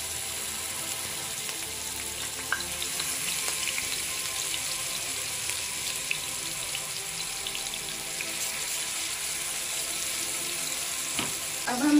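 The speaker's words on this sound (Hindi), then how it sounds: "अब हम इसमें मछली डाल लेंगे अच्छे से।" Fish frying in oil in a pan fills the whole stretch with a continuous, even hiss and crackle, close and fairly loud, with no voices over it.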